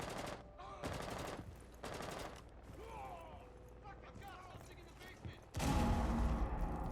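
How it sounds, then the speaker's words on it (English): Bursts of automatic gunfire from enemies in the video game Operation Claymore 2, sharp rapid volleys in short clusters with a louder sustained burst near the end, under a player's voice talking. "Shit, they're shooting at me."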